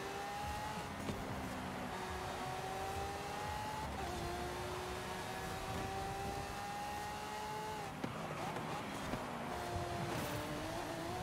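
Toyota Supra engine roaring hard through a race in Forza Horizon 5, a sustained loud drone with rising pitch sweeps on acceleration and sharp drops at gear shifts around every four seconds.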